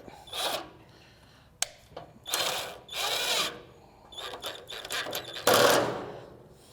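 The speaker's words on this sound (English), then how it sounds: "now we're going to put this screw in. It's going to come through that plate into the valve" Short whirring bursts of a power driver running a screw through a plate into a burner valve on a Camp Chef Gridiron 36 griddle, several close, uneven spurts with clicks between them and no talk.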